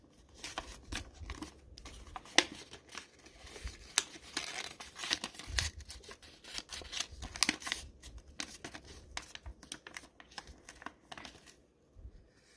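Paper being creased and folded into an origami flapping bird, with quiet close crinkles, rustles and sharp creasing snaps scattered irregularly across the stretch, no voices.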